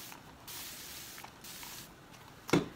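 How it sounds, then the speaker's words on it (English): A spray can hisses onto a bare-wood stool decorated with decoupage rice paper, giving a few steady, close spritzes of even hiss with short pauses between them, ending in a brief clack. "I am going to give it just a little bit of spray"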